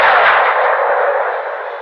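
In the 1993 film Sniper, rebels return fire wildly, heard as a loud, dense wash of gunfire that roars continuously for about two seconds before trailing off, with no talking.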